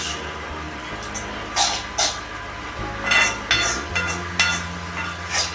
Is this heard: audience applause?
no